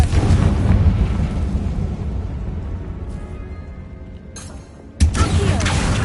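A Confringo spell blast in Hogwarts Legacy: a loud, rumbling explosion fills the opening seconds and fades, then a sharp burst erupts again near the end.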